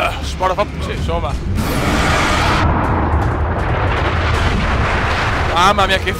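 Gunfire in the video game Far Cry 3: a dense, loud roar of shots and blasts lasting several seconds, with a voice talking over it at the start and end.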